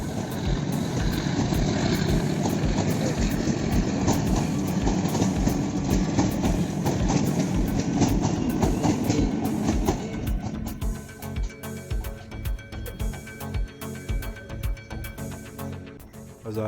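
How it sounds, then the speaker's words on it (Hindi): The Hazara Express pulls out of Golra railway station in Pakistan: a loud, steady rumble of engine and rolling wagons for about ten seconds, then rhythmic clacking of wheels over rail joints as the train moves off. "तकरीबन 1 मिनट स्टॉप करने के बाद 11 ऑफ हज़ारा एक्सप्रेस दोबारा अपनी मंजिल की तरफ रवाना हो गई।"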